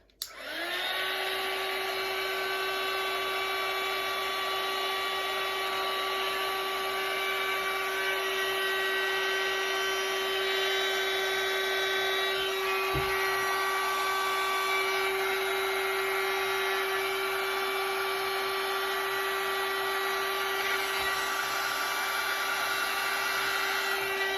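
A heat gun blows steadily while heating Worbla thermoplastic sheet on the underside of a cosplay dress, a continuous close whirring hiss with a high whine, unbroken for the whole stretch and with no talking.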